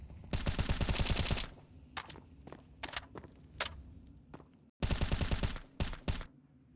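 Pistol gunfire in a Counter-Strike professional match on the Nuke map at IEM Chengdu 2024: rapid rattling volleys, then scattered single and double shots, another dense burst, and a few final cracks, crisp and close.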